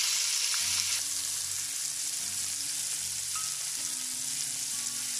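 Beef pieces frying in a pan for a coconut milk dish, giving a steady, close, hissing sizzle that holds evenly throughout with faint low hum underneath.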